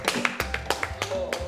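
Hands clapping on a film set, a run of sharp, close claps at an uneven pace, about eight or nine in quick succession, with some background murmur beneath them.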